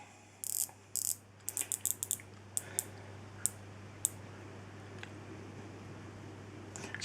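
A GMT watch with a Batman bezel gives crisp, close ratcheting clicks as the bezel turns: a quick cluster of clicks at first, then slower, scattered single clicks over a quiet hiss.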